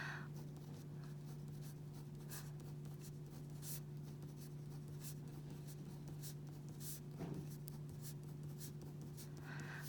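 A pen drawing on paper while sketching a math diagram, with soft continuous scratchy strokes and small taps against a steady electrical hum, faint and close with no talk.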